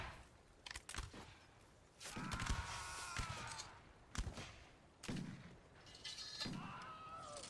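Cannon blasts and musket fire boom through a Napoleonic-era siege in Mount and Blade Warband, several sharp, loud reports spaced a second or two apart, each followed by rolling, echoing rumble and creaking mechanical noise.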